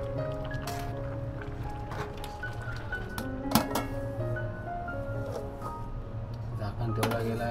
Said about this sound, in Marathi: झाकण ठेवला गेला आहे भातावर.